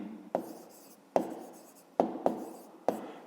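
A pen writes on paper during a fifth-grade maths exercise: five crisp, separate stroke bursts, each tapering off, close and quiet, with no talk.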